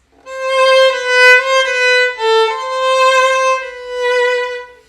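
A solo violin plays the opening melody of a song, smooth bowed notes gliding and swelling in a gentle phrase of several sustained tones, close and clear with no talking.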